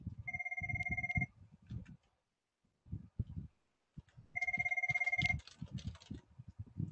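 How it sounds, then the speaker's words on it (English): Several telephones ring in two bursts of steady electronic double-tone trilling, separated by a pause, with keyboard typing and tapping clattering underneath throughout. "So there are phones ringing."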